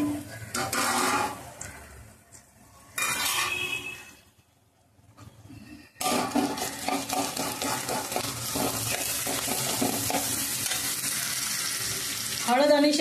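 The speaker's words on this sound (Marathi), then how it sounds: "हळद आणि शेंगदाण्याची चटणी आता याच्यामध्ये आपण चांगली फ्राय करतो।" Onion frying with turmeric and peanut chutney for a spicy bean dish, loud sizzling in bursts with stirring, a short quieter pause midway, then continuous crackling frying to the end.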